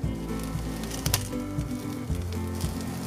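Fresh vegetables stir-fried in a wok over high heat give a steady, close sizzle and crackle with small spattering pops throughout.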